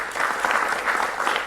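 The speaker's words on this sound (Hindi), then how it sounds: "जोरदार तालियों के साथ आप उनका स्वागत करें" Studio audience applause welcoming guests onto a Hindi television news debate panel, a steady dense wash of clapping from a crowd, moderately loud and continuous without talk.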